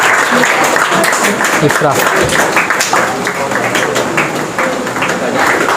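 Audience applause at a school English conversation competition, steady clapping throughout for a pair of students, with a speaker's voice cutting in over the noise.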